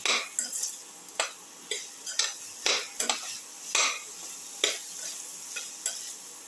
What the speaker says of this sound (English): Keep on sauteing and mixing